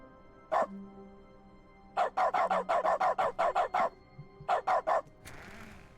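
A dog barks in The Stanley Parable's dog mode: one bark, then a rapid run of about ten yapping barks, then four more in quick succession, clear and close.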